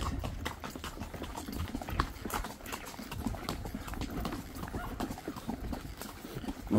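Horse hooves clip-clop in a quick, uneven rhythm on the ground, several horses moving together at a moderate distance during a trail ride at Rancho El Andén, no talking.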